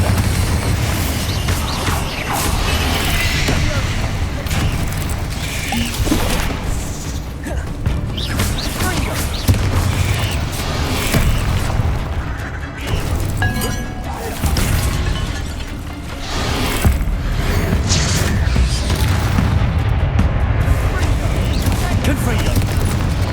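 Spell combat in Hogwarts Legacy with a Bombarda explosion spell among rapid casting, dense continuous booms, crashes and mechanical clatter layered throughout, loud and busy, with a voice speaking over the action.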